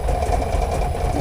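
Truck engine in American Truck Simulator revving up, a steady low rumble with a continuous mid-range drone, loud and unbroken throughout with no talking.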